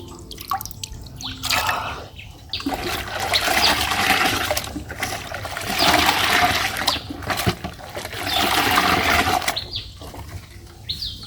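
Urea-molasses solution splashes and sprinkles over straw in several bursts, a spattering wash of droplets that rises and falls over about ten seconds, close by with no talking.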